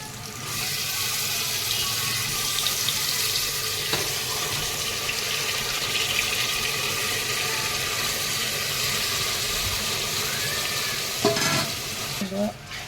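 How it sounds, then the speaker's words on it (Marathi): Mutton being stir-fried in a pan with softened tomato for a dry Maharashtrian mutton dish, a continuous close sizzle and crackle with occasional scraping and clinks of the utensil near the end, no voices. "परतून घेते मटणाला व्यवस्थित"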